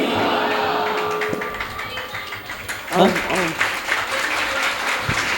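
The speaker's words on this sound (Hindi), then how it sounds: "ताली बजा।" Clapping from worshippers during a Jain temple ritual, a loose crowd applause with scattered taps and thumps and a few voices rising over it, moderately loud in a reverberant hall.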